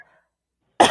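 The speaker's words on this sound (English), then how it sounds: "Yep, I had to cough." After near silence, a single short, loud cough bursts out close to the microphone.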